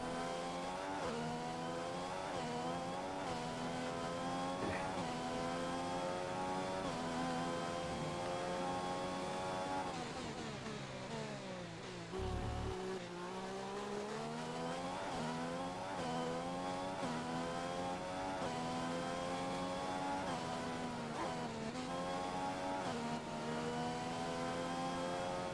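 A Formula 1 race car in the game F1 2015, its high-pitched engine whining steadily and shifting pitch through gear changes and cornering, continuous and close without talk.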